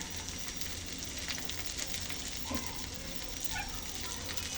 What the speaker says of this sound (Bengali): বেগুন ভাজি করছি